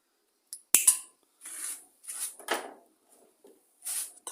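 Scissors snip the rubber fuel line of a line trimmer that has sat unused a long time, giving one crisp close cut followed by a few light rustles and handling clicks in an otherwise quiet room.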